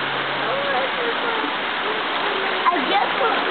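Floodwater from an overflowing river rushes across a driveway in a continuous, fairly loud wash and gurgle, while people talk over the flow.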